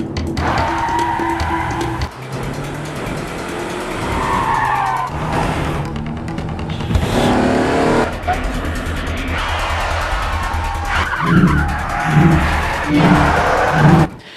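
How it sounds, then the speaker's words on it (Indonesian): Car chase in the film Unstoppable (2018), loud tire squeals and skids with revving engines, repeated bursts and impacts over about fourteen seconds, close and intense. "Kemudian Dongsul mengejar mobil Kitaya"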